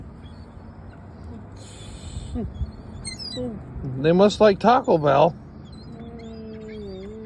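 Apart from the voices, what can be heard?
seagulls being fed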